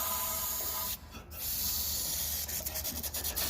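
An aerosol can sprays onto the corroded air filter of a Yardman riding mower. The loud, continuous hiss is close by and briefly interrupted, then sputters unevenly as the can runs empty.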